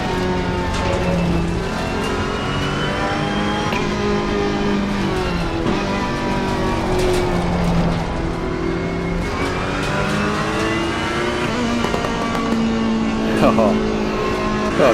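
Race car engine in Assetto Corsa Competizione roaring and rising and falling in pitch as the driver lifts off the throttle, with a voice talking over it throughout.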